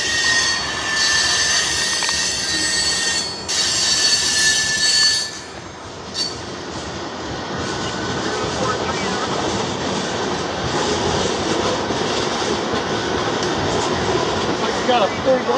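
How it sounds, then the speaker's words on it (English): A full grain freight train out of Nebraska, led by a pair of GE AC44C6M locomotives, rolls through Bootlegger's Crossing in Chattanooga, Tennessee, with a loud, steady rumble of wagons and wheel noise that continues throughout. "You got a full grain train out of Nebraska, doesn't you?"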